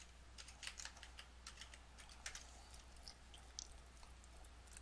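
A computer keyboard tapped in a rapid, uneven run of soft clicks, faint and close, as a root password is entered, with a steady low hum underneath.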